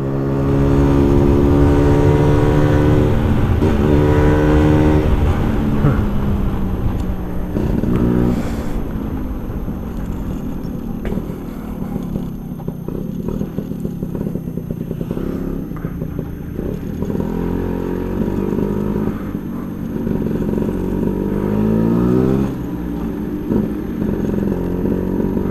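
A Vespa racing scooter fitted with an AJS right-side competition racing exhaust revs loudly and continuously, its crisp engine note rising and falling through repeated throttle sweeps, close and alone.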